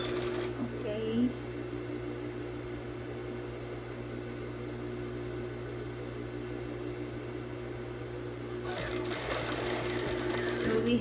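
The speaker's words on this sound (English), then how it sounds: "so continue sewing as tiny as you want to do" A sewing machine runs steadily while stitching a hanger loop from bias strip, a continuous close mechanical whir with a steady hum that picks up slightly near the end, with faint background noise throughout.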